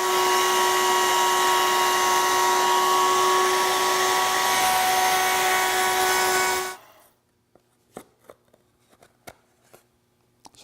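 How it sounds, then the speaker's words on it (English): A wood router fitted with a 1/8 inch radius roundover bit runs along the top edges of a wooden box and its top panel, giving a loud, steady, high whine for about seven seconds before it cuts off, followed by a few faint clicks. "What I'm going to do with this 1/8 inch radius roundover bit is route the top edges of the box and the top panel."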